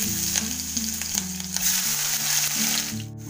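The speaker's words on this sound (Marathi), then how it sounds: "टाकते मी आता जिरं, नंतर ही लसूण टाकूया." Cumin seeds and garlic fry in hot oil in a wok while eggplant bharit is prepared, giving a steady, close sizzle that runs the whole time with no talking.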